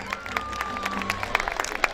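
Scattered applause from a crowd at an outdoor performance by the Istanbul Metropolitan Municipality mehter band, with rapid clapping bursts over a steady hum and a sustained tone in the background.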